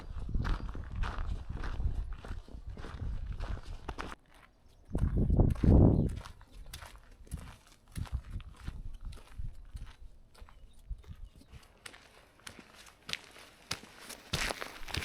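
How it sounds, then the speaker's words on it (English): A horse walking along a hiking trail on the Camino de Santiago in Spain, its hooves giving a loose, uneven series of soft clip-clop footfalls nearby, with no talking. "There's a horse."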